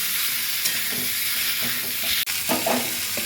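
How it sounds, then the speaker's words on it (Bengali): Ridge gourd being sautéed in a pan for a Bengali vegetarian curry gives a steady, fairly loud sizzle. Repeated stirring scrapes run through it, and the sound drops out for a split second. "ঝিঙেটা দিয়ে এবার একটু আমি কষিয়ে নেবো, সাথে লবণ দেবো"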